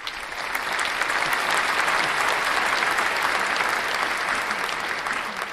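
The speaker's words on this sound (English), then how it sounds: "So we'll give them a clap for that." A crowd applauding steadily for about five seconds, a dense, even wash of many hands clapping that rises quickly and holds without any voices over it.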